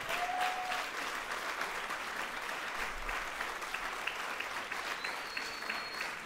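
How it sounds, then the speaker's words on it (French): An audience applauds a volunteer team with steady, dense clapping that holds at an even, moderate level throughout, with no voices over it. "On peut les applaudir très, très, très fort."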